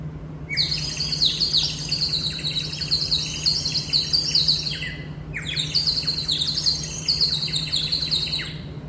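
A warbling, bird-like chirping water whistle trills continuously in two long bursts, bright and close, imitating birdsong over a faint steady hum.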